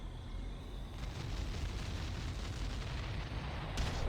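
Artillery barrage explosions from the strategy game Ground Control make a dense, continuous rumbling roar of blasts that swells and stays loud throughout, with no voices.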